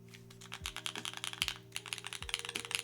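Fingers type on an Origami TKL mechanical keyboard, producing a quiet, steady run of crisp clacking keystrokes at close range, with a low electrical hum underneath.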